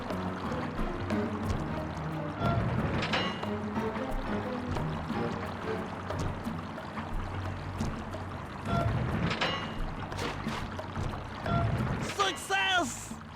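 In the video game Sly Cooper 2, water rushes and pours through a valve in a plaza, a steady splashing flow with louder surges, alongside game sounds and possible voices.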